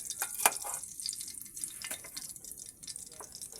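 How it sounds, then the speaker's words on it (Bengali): Shrimp heads cooking in a frying pan for a shrimp bhuna, giving a soft, steady sizzle and crackle with small spattering pops and one sharp tap near the start, no voices. "আমি এখানে চিংড়ি মাছের মাথাগুলো ফেলে না দিয়ে রান্না করে ফেলছি।"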